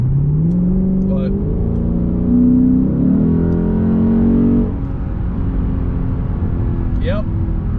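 The V8 engine of a Lexus GSF revving, a deep rumbling idle that climbs in pitch through a couple of throttle blips and settles back, loud and close with someone talking over it.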